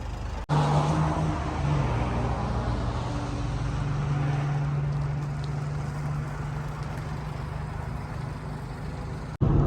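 A Renault Koleos engine hums steadily while driving, with continuous road and tyre noise and a low steady drone throughout, no voices.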